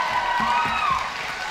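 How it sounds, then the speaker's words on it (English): Applause and cheering from an audience at an amateur ballroom dance competition, with a steady wash of clapping, whoops, and murmuring voices in a hall. "put your hands together once again and give a huge round of applause to Geraldine and John."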